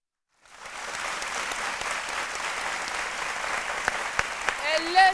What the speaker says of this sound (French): Son nom, c'est Traoré Noflani, que je vous demande d'applaudir.